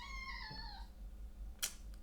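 A pet cat meows in a short, rising-and-falling call indoors late at night, close and clear, followed by a brief sharp click.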